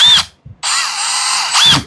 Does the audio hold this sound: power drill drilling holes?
yes